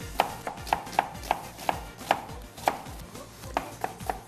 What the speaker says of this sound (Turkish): iki adet soğanımızı küçük küçük doğrayalım